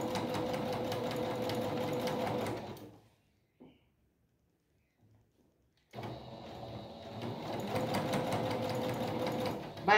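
Sewing machine stitching patchwork fabric strips for a rug, running in a steady rapid whir for a few seconds, stopping into near silence with a brief click, then resuming close and clear.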